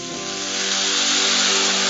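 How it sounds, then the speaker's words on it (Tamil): Tamarind water poured over sautéed vegetables in a hot pan for bisi bele bath, setting off a loud, continuous hissing sizzle that swells over about two seconds. "ஸோ ஊற வச்ச புளியை இப்போ நல்லா அந்த புளி கரைச்சல் எடுத்து அதை வந்து வதக்கின காய்கறிகளோடு சேர்க்க"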